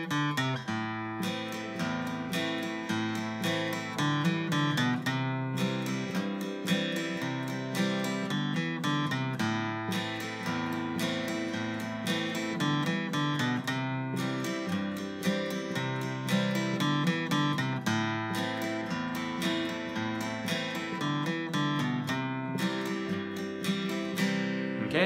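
An acoustic guitar plays the intro riff of a song, steady strummed chords in a continuous rhythm that runs unbroken and close for about 25 seconds without speech.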